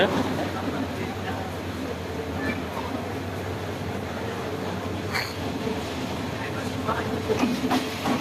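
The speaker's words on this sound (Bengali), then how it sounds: "এই যে আমাদের ট্রেন চলে আসছে" A train rumbles in steadily over constant station noise, with a few faint clanks and distant voices mixed in.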